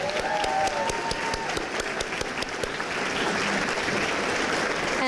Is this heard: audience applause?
yes